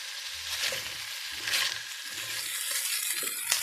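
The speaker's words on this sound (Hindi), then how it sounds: "अब मैं इन सब्ज़ियों को तकरीबन 1-2 मिनट के लिए 1 आधे मिनट के लिए फ्राई कर लूँगी।" Mixed vegetables frying in oil in a pan for pickle-making, a steady hiss of sizzle with a few soft stirring scrapes, close and moderately loud, no voices.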